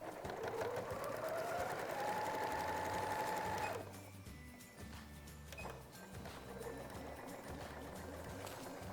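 Sewing machine topstitching a waterproof fabric clothes cover, a close rapid motor whir rising in pitch, then stopping, followed by quieter fabric handling and intermittent machine sounds.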